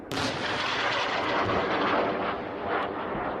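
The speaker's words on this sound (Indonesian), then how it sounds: "Suara ledakan juga terdengar di penjuru kota Tel Aviv dan Yerusalem" A continuous, loud roar of distant blasts and rumbling booms from Iranian ballistic missile strikes over Tel Aviv and Jerusalem, dense and sustained with no voices.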